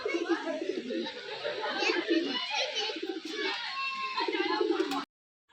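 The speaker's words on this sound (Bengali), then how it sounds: "এই সে আমার প্রিয় কবুতর" Pigeons coo and flutter at a garden house loft in Murshidabad, with people chattering and speaking close by through most of it before a sudden cutoff near the end.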